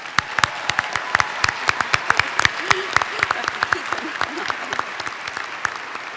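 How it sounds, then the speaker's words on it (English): A graduation-ceremony audience applauds doctoral degree graduates with dense, steady clapping from many hands that holds at an even level throughout. "Please join me in applauding the doctoral degree graduates."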